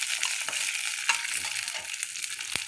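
Green chillies stirred briefly in a frying pan, giving a steady hiss of sizzling oil with a few faint scraping stirs over about three seconds.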